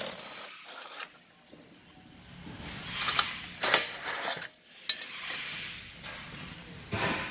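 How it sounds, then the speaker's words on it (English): A 7/16 wrench works top bolts loose on a motorized Gemini shade unit, giving irregular metallic clinks and ratcheting scrapes at close range over a faint room hum. "Okay, I'm gonna take out these top bolts."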